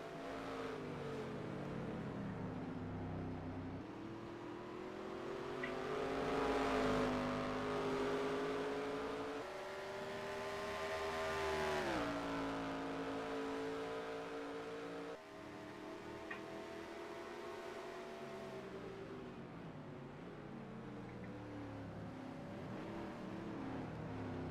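Race trucks of the USA Trucks West series circle a Portland short track, engines droning loudly and continuously with rising and falling pitch as they pass, several overlapping at once.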